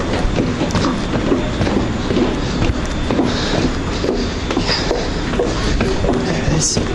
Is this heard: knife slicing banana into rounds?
no